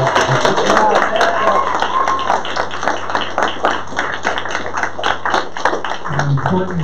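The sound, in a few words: audience round of applause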